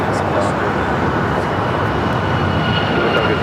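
An airliner taking off from runway 25 right at LAX, a loud steady jet engine roar filling the whole stretch, with radio chatter over it.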